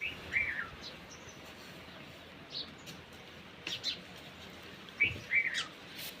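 Village birds give a few short, bright chirps and whistled calls at scattered moments, fairly distant over a quiet outdoor background with no talk.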